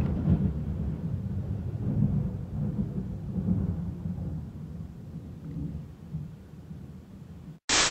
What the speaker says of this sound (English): Thunder really sounds like somebody's bowling.